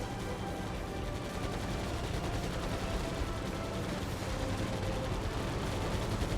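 Enemy gunfire in the video game Air Conflicts: Pacific Carriers, a dense, continuous rattle of rapid shots that holds at steady loudness for the whole stretch, with no voices over it.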